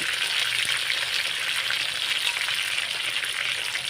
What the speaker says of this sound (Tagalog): Yan ang ating fried chicken.